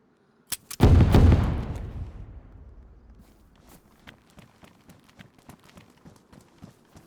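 A loud explosive boom bursts out and rumbles away, followed by a scattered run of sharp cracks and thuds, like game gunfire and impacts, during a base raid in DayZ.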